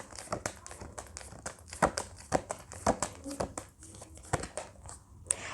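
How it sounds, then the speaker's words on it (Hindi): Tarot cards are drawn out and handled, producing quiet, close, rapid crisp snaps, flicks and papery rustles in an irregular rhythm. "चलिए एक बार सारे कार्ड्स निकाल लेते हैं"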